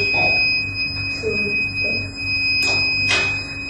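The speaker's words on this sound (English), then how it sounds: "the buzzer produces a sound" Buzzer of a forest IoT fire alarm system with water sprinklers, giving short electronic tones over a steady high whine and background hum.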